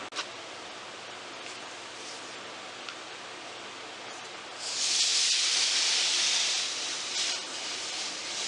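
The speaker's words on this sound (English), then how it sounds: "We use my steam iron from the Goodwill, a clean, damp rag, and we try to push the steam into the dent and bring it back up to the surface." A steam iron pushes steam through a damp rag into a dent in the wood of a mid-century modern chest of drawers. A low rustle gives way to a loud, steady hiss of steam that holds for a few seconds and then eases slightly.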